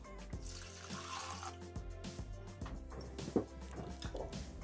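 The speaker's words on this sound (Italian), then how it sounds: "Aggiungere l'acqua." Water streams into a Thermomix mixing bowl before pasta is cooked, a close splashing pour with irregular gurgles and a sharp splash near the end.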